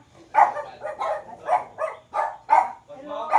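Dog barking repeatedly at a house gate, about eight sharp barks in a quick irregular run, close and fairly loud.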